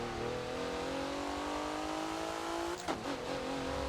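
A Forza race car on Hockenheimring during a test drive, its engine climbing steadily in pitch under load, then a sharp shift or lift near the end before the rising note resumes.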